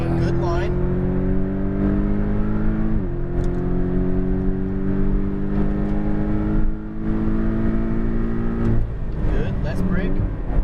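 A Porsche Cayman GTS engine pulls hard on a race track circuit, a steady sustained drone rising slowly in pitch with a brief dip near the middle, heard close from inside the car while an instructor talks over it.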